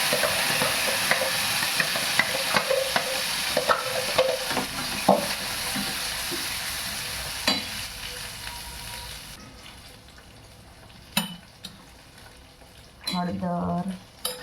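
Garlic chutney, chilli, ginger, grated onion and tomato puree hit hot oil in a pan, giving a steady loud sizzle with stirring scrapes that fades to quieter frying, while a voice speaks briefly near the end.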